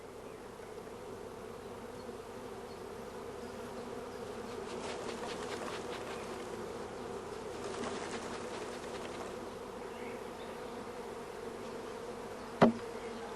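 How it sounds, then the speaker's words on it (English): Young honey bees, brushed off brood frames into a shook swarm box, buzz in a dense, continuous hum, with one sharp knock near the end. "we brush the young bees off several frames of brood"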